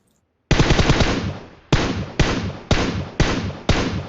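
Gunfire in the PUBG Mobile game: a long sustained automatic burst followed by five short, evenly spaced bursts, loud and close with no talking.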